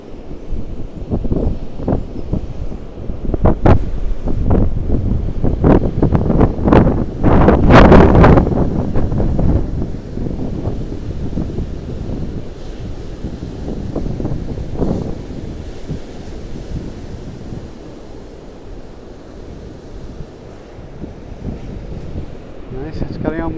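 Strong storm wind buffets the microphone on a seaside promenade while big waves crash and surge nearby, loud gusty roaring that swells and fades with intermittent bursts throughout.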